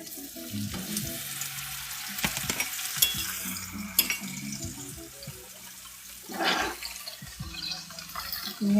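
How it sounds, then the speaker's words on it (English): Food fries in hot oil with a steady, fairly quiet sizzle, broken by occasional utensil clinks and stirring. "You hear that sizzle?"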